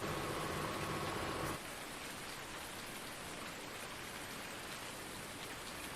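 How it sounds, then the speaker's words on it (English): Steady rain in Farming Simulator 19 hisses evenly and fairly quietly, a slightly fuller patter at first that then settles into a constant soft wash. "it's raining, so I can't do that."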